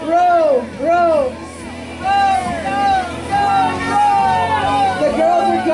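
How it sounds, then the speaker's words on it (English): Crowd at a cardboard boat regatta yells and cheers in repeated rhythmic chants, loud and close, with overlapping excited voices throughout. "And the crowd goes wild. The crowd's yelling, row, row, row, row."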